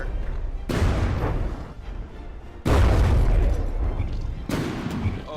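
Explosive shells slamming into a tank turret in the video game From The Depths: heavy booming blasts with sudden onsets followed by sustained rumbling roar, loud and dense, with two or three major impacts.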